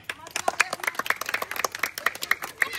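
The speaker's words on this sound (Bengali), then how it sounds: "জোরে হাততালি সবাই" A small crowd claps at the candle lighting for a Ganesh puja celebration, a quick burst of brisk, uneven handclaps lasting a few seconds, close by.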